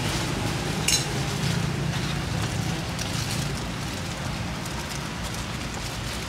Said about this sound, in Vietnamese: Mưa nay mưa thiệt chứ mưa giả đâu.